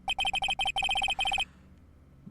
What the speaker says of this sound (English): The phone that rang earlier wasn't mine.